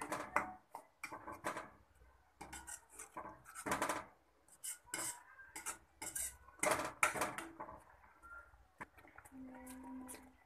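Ingredients for a red chutney to go with akki rotti being stirred in a pan, irregular metal scraping and clinking of a utensil against the pan, fairly faint, with no talk.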